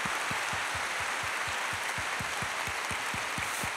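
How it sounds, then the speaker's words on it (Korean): A church congregation claps together after a guest pastor is introduced: dense, steady, fairly loud applause filling the whole moment, with a faint regular beat running underneath. "박수하겠습니다."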